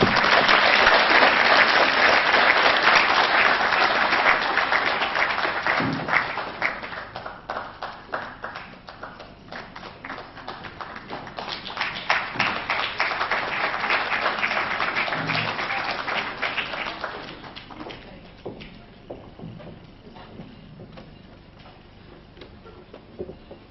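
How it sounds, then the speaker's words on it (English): Audience applause after an inaugural professorial address at a university, loud sustained clapping from a large crowd that gradually thins into scattered claps and fades. "can you give yourself another round of applause, please?"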